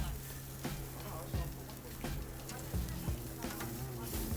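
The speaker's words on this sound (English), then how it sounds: "And now it's onto the Kamado to get that reverse sear part done" Ribeye steak searing on a Kamado grill for a reverse sear, a steady close sizzle with occasional scraping clicks as the meat is moved around, a faint voice underneath.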